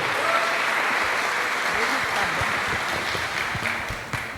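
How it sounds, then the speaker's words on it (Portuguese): Crowd applause greeting a lecturer at a talk on psychic immunity, a continuous wash of many hands clapping that fades slightly toward the end, with some voices underneath. "com a gente, Jacó, que a gente aplaude também agora com alegria"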